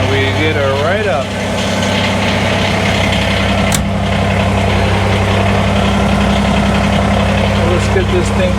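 A Kubota BX23S diesel tractor with snowblower, unused since a snowstorm, fires up after glow plugs and settles into a loud, steady, close idle with a low rumbling drone and slight knock.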